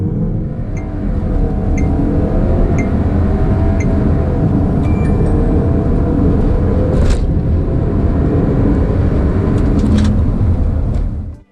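A 2019 VW Tiguan with a 7-speed DSG accelerating hard from 30 to 70 mph, a loud steady engine drone and road rumble heard from inside the cabin, continuous and rising, with a few faint gear-shift ticks.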